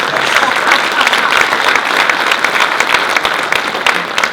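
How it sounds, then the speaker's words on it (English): A crowd claps in sustained, dense applause, steady and loud from start to finish. "Okay, round of applause, it worked."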